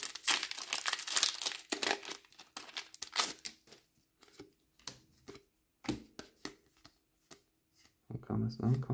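Crinkly foil wrapper of a Magic: The Gathering March of the Machine booster pack being torn open and the cards shuffled through, in close, quick bursts of rustling and flicking with short pauses between and a low voice near the end.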